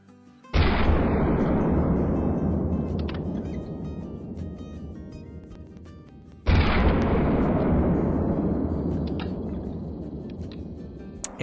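.44 Magnum shots fire during a pronghorn hunt in a video game: two loud, sharp blasts about six seconds apart, each followed by a long, slowly fading rumbling echo.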